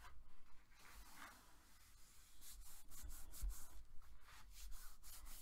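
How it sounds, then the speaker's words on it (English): Paper on a handmade card album is burnished with steady, close rubbing strokes, a repeated dry scraping swish that swells and fades, alone without speech. "And go ahead and burnish."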